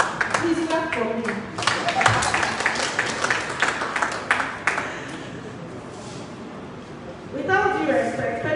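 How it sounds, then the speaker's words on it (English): An audience at an anti-human-trafficking event claps in a burst of scattered handclaps that builds then fades, with a voice speaking over and around the applause. "Please clap for me."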